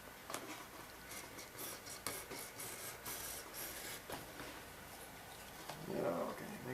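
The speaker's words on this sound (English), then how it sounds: "you're going to do some sanding in a second" Hand-sanding a cut piece of wood produces a series of scratchy rasping strokes, short repeated passes with brief gaps between them, faint and close, with a slightly heavier rub near the end.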